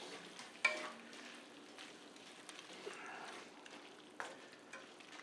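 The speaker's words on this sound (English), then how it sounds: "I'm putting in a little butter. Let's melt that in." Butter melting in a pan with lemon juice, giving a soft, steady sizzle with occasional small pops and stirring clinks, quiet and close.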